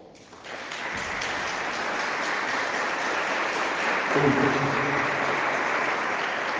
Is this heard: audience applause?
yes